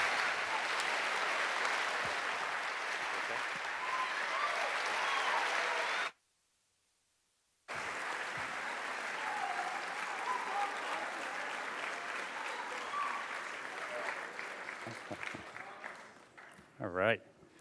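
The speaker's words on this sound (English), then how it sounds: "Guys, a round of applause for your award winners" A school assembly crowd gives loud, sustained applause for student award winners; the clapping cuts out briefly, then resumes and thins toward the end as voices come through.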